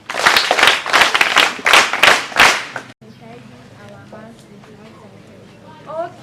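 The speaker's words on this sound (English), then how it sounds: "Let's clap for it." Students in a high school classroom clap together in a short burst of about three seconds, sharp and loud, then the room falls quiet with faint murmuring and a few light sounds.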